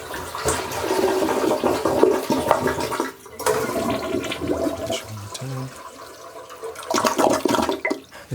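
A toilet flushes to drain its tank during installation of a Mordeer C600 electric bidet, a loud, close rush of water that briefly dips and then continues gurgling, with no talking.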